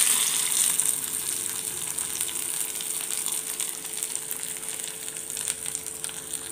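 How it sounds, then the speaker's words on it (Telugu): Tempering with curry leaves sizzling in a pan for mint chutney made with dried red chilies, a continuous dense crackling fry, close and steady, with no talking. "వేసేస్తున్నానండి తాలింపు పుదీనా పచ్చళ్ళు."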